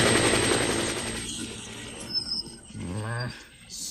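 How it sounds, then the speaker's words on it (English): A helicopter-like aircraft roars overhead in a storybook setting, loud and whooshing at first, then fading away, with a brief voice-like sound near the end. "Percy could hear the aeroplanes zooming overhead all day."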